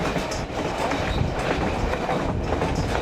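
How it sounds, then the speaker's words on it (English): A passenger train near Skagway, Alaska, heard from a car near the back, gives a steady, loud clickety-clack of wheels and wagons rolling over rails as it rounds a curve. "See the engine coming around the curve there?"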